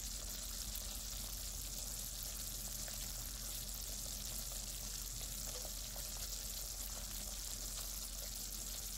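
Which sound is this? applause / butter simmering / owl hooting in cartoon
butter simmering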